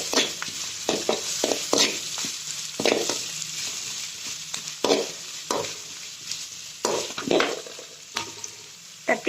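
Onions sauté in hot oil with cumin seeds for a sardine gravy, a close, steady sizzle broken by repeated scraping stirs of a spoon against the pan.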